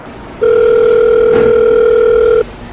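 A steady two-note telephone ringing tone sounds for about two seconds, loud and alone, while a phone call is being placed to office colleagues.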